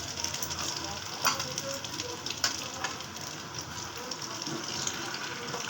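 Cauliflower pakoras fry in hot oil with a soft, continuous sizzle and crackle, low and steady throughout, punctuated by a few brief clinks or scrapes.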